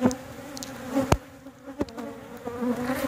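Honeybees buzz steadily around an opened backyard hive frame, a continuous close hum with a few sharp clicks and knocks from handling the box.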